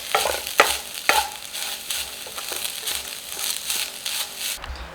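A spoon stirs grated coconut around a pan, giving dry scraping and crunchy rustling with a few sharper knocks early on, close and continuous with no talking.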